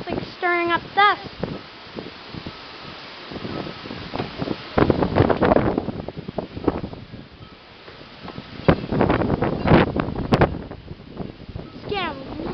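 Strong wind gusting hard across a lakeside campsite during a thunderstorm, roaring in surges and buffeting the microphone, with several people talking and shouting over it throughout.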